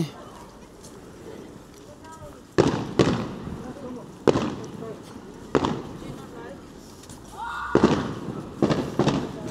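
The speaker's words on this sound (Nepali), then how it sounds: "कतातिर फायर वर्क्स पड्काउँदैछ" Halloween fireworks go off in a neighbourhood at night, a series of loud sharp bangs and crackling bursts spaced a second or two apart, with people talking between and over them.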